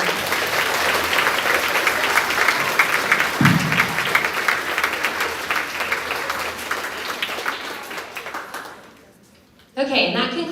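Sustained crowd applause at a grades 4–6 school awards assembly for the Super Scientist Award winner fills most of the stretch, then dies away into near silence before a voice begins speaking.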